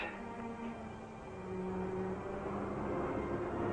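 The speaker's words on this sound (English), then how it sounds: "Japanese bombers. Yeah. And coming in over the island." Low droning engines of Japanese bomber planes approaching rumble steadily, a sustained aircraft hum that swells slightly louder over a few seconds, with no talking.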